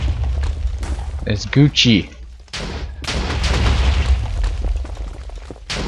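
Repeated booming blasts from lobbed bombs in Minecraft Bomb Lobbers, loud and close, with rumbling bursts between and over an excited player's voice.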